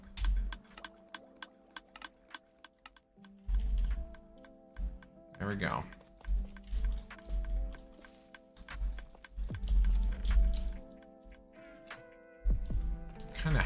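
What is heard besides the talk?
computer keyboard clicking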